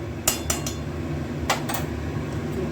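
A utensil stirs rice with ghee in a pan on the stove, and the spoon knocks the metal in several sharp clinks. The clinks come in two quick clusters over a low steady hum, with no talking.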